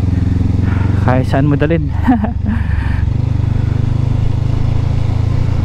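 An adventure motorcycle rumbles steadily up close on a steep, rough shortcut road, its engine drone constant throughout while someone speaks briefly over it.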